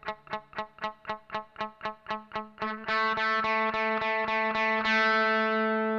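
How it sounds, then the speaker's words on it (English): A guitar is picked in a steady run of short, muted plucks while the fretting finger slowly presses the string down, until the note suddenly rings out clear and sustained, close and alone. "eventually you'll hear the note actually start to sound like this."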